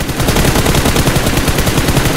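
Loud, rapid automatic gunfire from a BGMI match, a tight, unbroken stream of close shots running for about two seconds.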